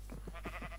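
Pigs grunting in the Minecraft video game, several short snorting calls in quick succession, close and fairly soft over a steady background hum.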